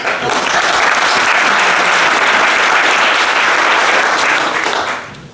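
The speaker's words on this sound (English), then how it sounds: "big round of applause for Peter in case." Audience applause for a speaker at a talk on smart contracts and blockchains, a dense, loud, steady wash of many hands clapping that holds evenly for about five seconds before fading at the end.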